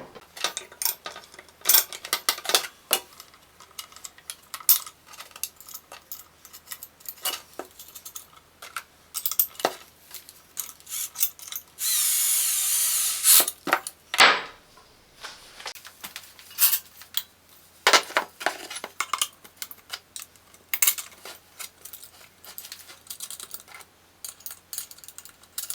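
Two 13mm wrenches tighten screws on a Gude MSKT 760 folding welding table, giving irregular metallic clicks, taps and clinks throughout, close and fairly loud, with a brief rushing noise midway.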